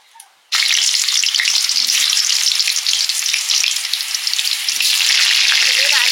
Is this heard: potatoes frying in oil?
yes